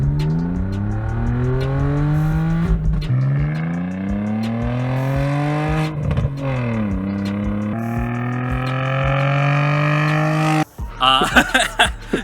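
A 2.8-litre V6 in an Audi A4 B5 with straight-piped exhaust run straight from the headers, revving repeatedly with rising and falling loud raspy engine tones, ending in sharper bursts.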